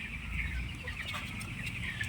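Several chickens on a poultry farm, some sick with kidney disease, cluck and chatter continuously close by, a busy overlapping murmur of soft calls.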